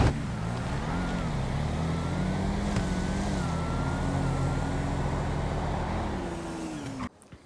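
A drag car in GTA V, a street outlaws no-prep hot lap, drones with a steady sustained engine note that rises and falls slightly in pitch, loud and continuous before cutting off abruptly near the end.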